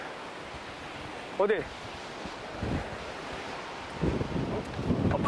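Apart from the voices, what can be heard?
ocean waves and strong wind at a surfing beach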